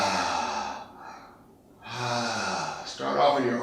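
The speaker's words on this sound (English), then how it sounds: "Allowing sound, breathing through the mouth." A woman exhales audibly through the mouth during a yoga-style self-love practice, producing two long, breathy sighs close to the microphone, separated by a quieter pause, with a third breath starting at the end.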